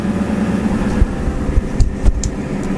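A Ford Powerstroke diesel engine idles at close range with a steady low rumble and a faint mechanical whine, broken by a few soft knocks and clicks.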